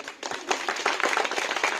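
Audience in a hall clapping for student prize winners at a Bharat Vikas Parishad ceremony, a dense patter of hand claps building after a brief quiet start and holding steady.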